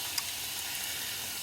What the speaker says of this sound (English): I'm going to fry off some lamb